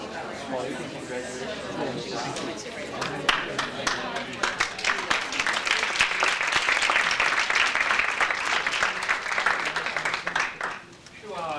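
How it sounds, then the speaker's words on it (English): A voice speaks briefly, then an audience at a talk breaks into sustained applause, many hands clapping loudly and evenly for several seconds before thinning out near the end. "love the way you started the applause there"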